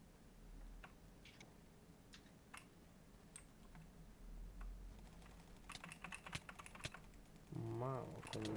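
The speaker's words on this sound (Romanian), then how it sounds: "Dacă se aude tastatura, îmi pare rău, dar mi-am schimbat tastatura și cu switch-uri albastre" Typing on a mechanical keyboard with blue switches produces sharp, clicky keystrokes in irregular bursts that speed up into a rapid flurry, fairly close and quiet, with a voice joining briefly at the end.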